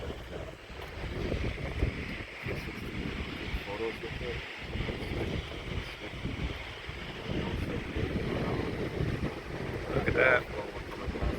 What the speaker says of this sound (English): Got a good breeze in here. It's against the current. It's right in my face right now.